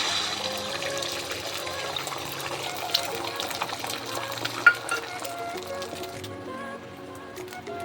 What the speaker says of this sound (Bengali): এবার আমি ডিমটাই তেলের মধ্যে ছেড়ে দেবো।